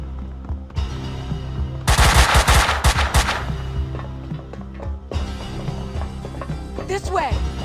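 Loud bursts of rapid gunfire in a Max Payne cutscene, with a dense volley in the middle and more shots after, over music and voices.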